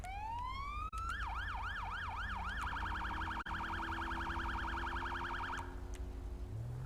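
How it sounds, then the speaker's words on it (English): An electronic police siren in the video game GTA V cycles through a rising wail, then a rapid yelp, then a fast warble, loud and close, ending abruptly. "Check out the siren and shit I got"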